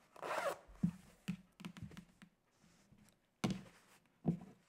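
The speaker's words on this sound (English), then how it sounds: "you definitely want to make sure your zipper is open" A zipper on a fabric bow clutch is pulled in several short, quiet strokes separated by pauses, close up in a calm indoor setting.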